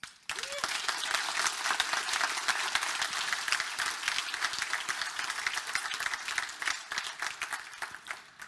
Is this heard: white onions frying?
no